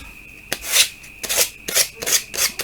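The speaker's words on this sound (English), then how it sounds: "just a matter of sanding off the excess cork, going around the corner" Sandpaper rasps against excess cork on a wooden corner clamping caul in short repeated strokes, about five scrubbing passes in under three seconds, close and crisp with no talking.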